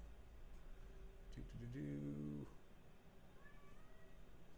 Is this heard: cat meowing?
yes